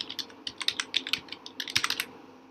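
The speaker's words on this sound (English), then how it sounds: "Then we type in our anniversary." Fast typing on a computer keyboard, a brisk run of close, crisp key clicks in uneven bursts with brief pauses, heard alone.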